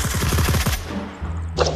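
A rapid automatic burst of gunfire in the VR shooter Onward: a dozen or so loud, closely spaced shots, then a short pause and one more sharp report.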